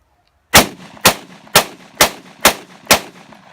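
A TT 30 bore Russian pistol fires six sharp, loud shots in a steady rhythm about half a second apart, each with a short ringing tail.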